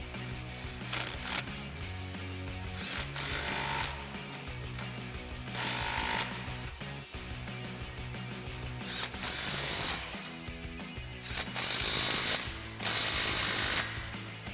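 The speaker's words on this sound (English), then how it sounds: "So we'll grab our 15 mil socket on our impact and go ahead and tighten these down." An impact wrench with a 15 mm socket tightens exhaust band clamps on a Mustang GT. Rapid mechanical hammering comes in several loud bursts separated by short pauses and quieter clattering, close up and without talk.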